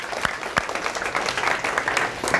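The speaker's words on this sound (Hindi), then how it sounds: "नाइस, तालियां होनी चाहिए।" A classroom of students applauds during a career counseling session, steady dense clapping from a group with a few sharper nearby claps standing out.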